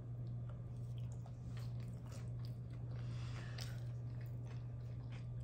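A bite of homemade salmon croquette with vegetables, eaten without tartar sauce, is chewed with soft, faint squishing and occasional light crunches over a steady low background hum.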